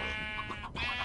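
Sheep bleating in Minecraft: a short, faint, wavering bleat with a brief break before a second bleat, heard alone without talk.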